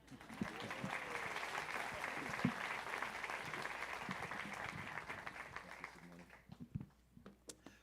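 A church congregation at a Spanish-language live Baptist service applauds the preacher, steady clapping running throughout with faint voices mixed in, thinning out near the end.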